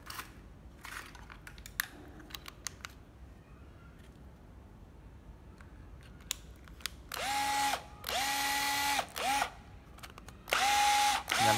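A Japanese domestic-market 9.6V cordless drill runs in several loud, close bursts of steady whirring, some long and some short, after a stretch of quieter clicks and handling noise.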